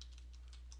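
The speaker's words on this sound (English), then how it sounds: "you can simply type in" Keys tapped on a computer keyboard while a web address is typed into a browser settings window, about half a dozen quiet, closely spaced clicks over a low steady hum, no voices.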